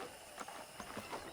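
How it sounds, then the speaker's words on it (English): Horse hooves clip-clop in the western video game Red Dead Redemption, a quick, uneven run of light thuds at moderate distance over a soft background wash, with no talking. "let's see if you can still ride a horse"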